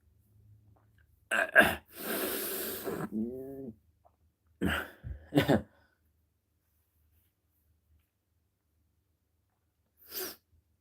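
Several harsh, rough bursts close up, a cluster early on followed by two more and a faint last one, with silence between.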